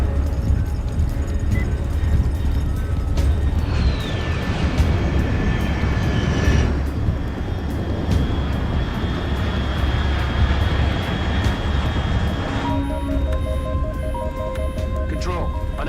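An aircraft flies overhead in the video game Metal Gear Solid Delta: Snake Eater, a sustained rumbling engine drone with whining tonal layers that swell and shift over about sixteen seconds, beneath a game score and spoken radio dialogue.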